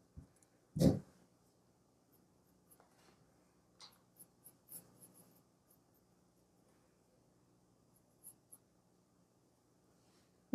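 A graphite pencil draws eyes on paper with faint, sparse scratchy strokes spread across a quiet stretch, after one loud thump near the start.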